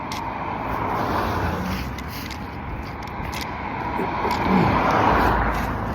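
Traffic rolling past on a nearby street, a steady broadband wash of tires and engines that swells as cars go by, with no voices.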